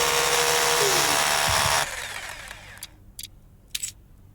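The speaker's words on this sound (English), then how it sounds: "So we need a drill." A power drill bores into an apartment wall to hang a clock. It gives a loud, steady whine for almost two seconds, then cuts off, leaving a few faint clicks and taps.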